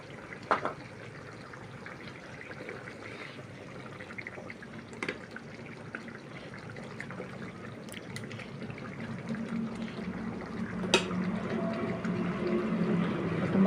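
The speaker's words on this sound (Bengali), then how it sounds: "2 চামচ তেঁতুল গোলা জল দিলাম" Tamarind water poured into a pot of cooking meat curry: soft trickling and dripping liquid over a low simmering background, with a few sharp clinks and a gentle bubbling that grows slightly louder toward the end.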